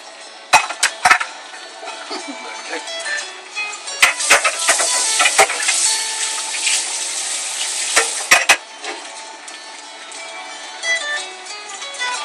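Paella bubbling and sizzling in a pan on the stove, steady throughout, with scattered sharp clinks of metal utensils against cookware.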